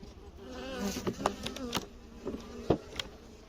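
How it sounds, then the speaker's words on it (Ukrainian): Honey bees buzzing around an open beehive where the colony sits on the lower box of an eight-frame hive, a steady close insect drone with several brief louder passes near the ear, no talking. "Може то, що бджолей тут багато."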